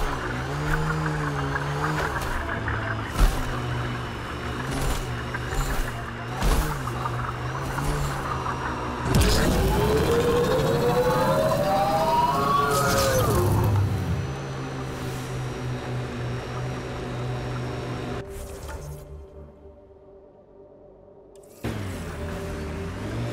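Ket turbine machinery in Mass Effect Andromeda, a steady droning hum with low rumble and rising whine, joined by periodic thumps before cutting out briefly near the end.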